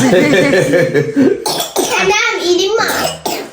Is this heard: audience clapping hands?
no